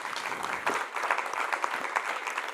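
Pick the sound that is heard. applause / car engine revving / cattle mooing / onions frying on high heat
applause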